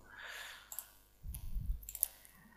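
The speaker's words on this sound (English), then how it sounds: "If you want to remove, just right click on that and click remove." A couple of faint, sharp mouse clicks on a Windows 7 computer, quiet and close, separated by a soft low rumble.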